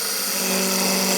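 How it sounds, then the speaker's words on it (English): A woodturning lathe tool scraping spinning wood, a steady, close, bright whirring hiss with no breaks over the short span and no talking. "I'm going to start level and scrape, and then find that bevel"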